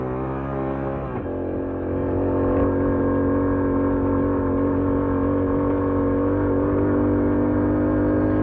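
A motorcycle ridden along a park road, a steady droning engine hum with a slight shift in pitch early on, loud and continuous with no talk.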